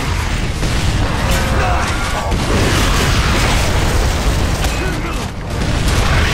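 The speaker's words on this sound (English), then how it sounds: "Two mortars on a Reaver," Mortar rounds pound a Reaver in the shooter Gears of War: Judgment, a dense, loud wall of booming blasts and rumbling battle noise running throughout.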